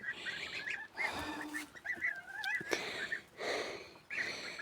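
Geese honk and chatter in short, repeated bursts nearby, their nasal calls coming in uneven clusters with brief pauses between.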